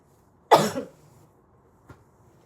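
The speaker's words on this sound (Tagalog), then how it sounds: "Yung ubo ko dry." A woman who is ill gives a single dry cough, a short harsh burst followed by a faint second catch, close and clear in a quiet room with no talking.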